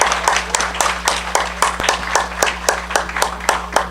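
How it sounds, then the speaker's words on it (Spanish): A small church congregation welcomes a woman guest with applause, sharp claps landing in a steady, rhythmic beat over a low electrical hum. "Recíbanla con un aplauso"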